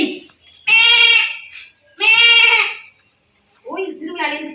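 A human voice imitates a goat, giving three nasal, wavering bleats, the first two long and loud and the third shorter and softer, with brief pauses between them.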